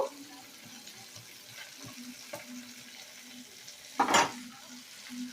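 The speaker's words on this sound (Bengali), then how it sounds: "এগুলোকে একটু ভালো করে নেড়ে চেড়ে ভেজে নেব" Tilapia with a pinch of kasuri methi is stir-fried in a pan, a faint low sizzle with occasional soft stirring scrapes and one louder utensil scrape near the end.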